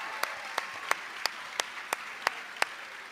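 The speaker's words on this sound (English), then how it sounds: "How about joining me in a round of applause to Connor Gilbert for putting that together?" At a college athletics recognition ceremony, sharp distinct claps ring out about three times per second, steady and even, over a faint background of scattered audience clapping.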